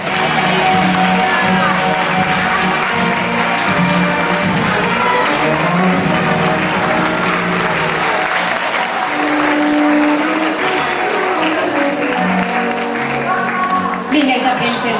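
A large crowd at a Valencian fallera presentation ceremony applauds loudly and continuously, with voices and music blending underneath the sustained clapping.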